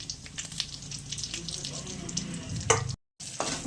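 Nigella seeds drop into a small amount of hot oil in a pan and sizzle with a steady close crackling hiss, briefly cutting out near the end.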